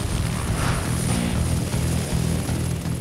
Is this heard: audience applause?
no